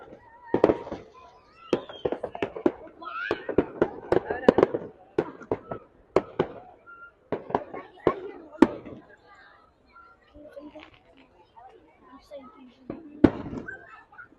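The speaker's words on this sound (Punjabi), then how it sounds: "ਠੀਕ 9:30 ਵਜੇ ਇਹਦਾ ਸਿਲਸਿਲਾ ਜਿਹੜਾ ਹੈ ਨਾ ਜੀ ਸ਼ੁਰੂ ਹੋ ਗਿਆ ਆਤਿਸ਼ਬਾਜ਼ੀ ਦਾ" Fireworks burst during a US Independence Day display in America: sharp, irregular bangs and pops, some in quick clusters and others spaced apart, with people talking between them.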